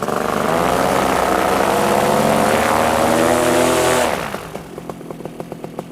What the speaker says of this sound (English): I'm gonna do a little thrust test.